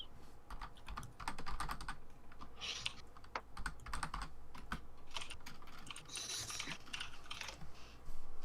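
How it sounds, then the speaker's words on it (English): Keyboard typing inside a Garry's Mod game round: rapid, irregular clicking keystrokes in short bursts, fairly close and moderately loud over a faint background hum, with no talking. "Someone's typing."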